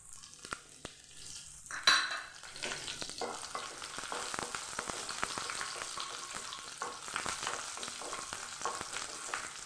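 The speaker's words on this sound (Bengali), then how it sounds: "তেল গরম হয়ে গেছে, দিব 1/2 চা চামচ কালো জিরে, দেব কাঁচা লঙ্কা চেরা" Black cumin seeds and slit green chillies drop into hot oil, setting off a sudden loud crackle and then a steady, dense sizzle and spatter with occasional clinks of a utensil against the pan.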